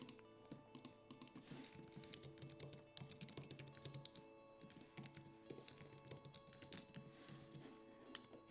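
Fast, steady clicking of a computer keyboard while code is entered, close and quiet, with keystrokes in quick uneven bursts and no talking.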